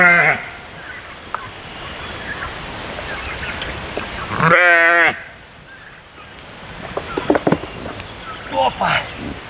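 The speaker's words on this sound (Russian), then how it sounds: "Крупный черный баран." A large black ram gives a single loud, wavering bleat midway through, with a few shorter animal calls and some voices around it on a farm.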